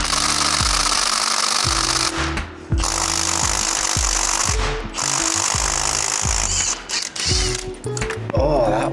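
On a 2008 Ford Taurus X with the 3.5L engine, a pneumatic impact gun hammers at the crank pulley bolt in repeated loud rattling bursts with short pauses, heard close with no talk.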